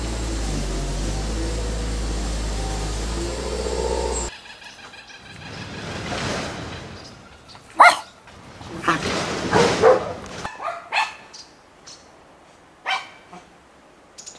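Excited dogs greeting someone outdoors, giving several sharp close barks and yips with whimpering between them, mixed with a person's voice, after a steady car-engine drone that cuts off early.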